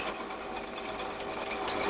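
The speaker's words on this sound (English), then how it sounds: "I've just gone straight in with the drill onto the centre pot" A drill bit bores into a centre-punched steel workpiece on a Warco WM180 lathe, giving a continuous high-pitched metallic squeal with a fast, fluttering pulse, close and fairly loud, with no talking.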